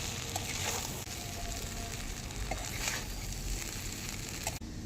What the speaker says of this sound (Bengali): এবার সব কিছু ভালো করে আস্তে আস্তে মিশিয়ে নেব।